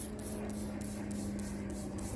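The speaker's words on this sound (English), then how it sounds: "You spray the top of the leaf" Seven quick hissing spritzes from a spray bottle onto plant leaves with powdery mildew, in an even rhythm, each a short burst, over a steady low electrical hum.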